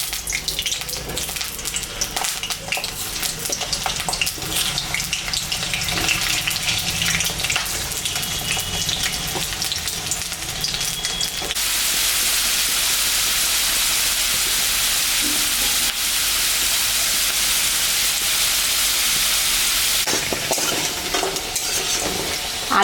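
Potatoes fry in hot mustard oil in a kadai wok, giving a continuous close sizzle with stirring scrapes throughout, the hiss growing louder and brighter partway through and easing slightly near the end.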